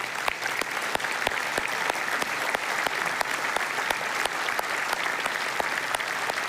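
Steady audience applause at a city's State of the City address, many hands clapping in a dense, even wash with sharp individual claps standing out, sustained throughout without speech.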